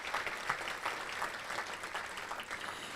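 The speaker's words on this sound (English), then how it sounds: "Let's give them a round of applause." Audience applause for elected officials at a regional chamber of commerce meeting, a steady, fairly faint wash of clapping from a crowd in a hall.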